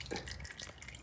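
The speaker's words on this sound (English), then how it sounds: "Fluid's trickling out." Transmission fluid trickles from the fill hole of a Polaris RZR 800, a soft, close, continuous liquid dribble with faint splashy drips and no talking.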